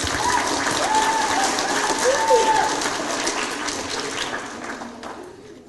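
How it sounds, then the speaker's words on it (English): Applause for teachers at a school assembly: a roomful of people claps steadily, a dense patter that gradually fades and thins toward the end, with a few voices heard faintly underneath. "One more round of applause for our teachers."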